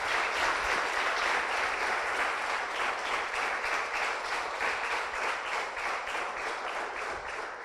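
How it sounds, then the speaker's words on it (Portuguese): A church congregation gives a strong, sustained round of applause during an evening service, dense and close, with steady clapping that fades slightly toward the end. "Então dê uma forte salva de palmas a Jesus nessa noite."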